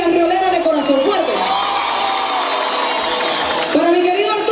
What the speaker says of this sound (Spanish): un fuerte aplauso para los rioleros y las rioleras de corazón fuerte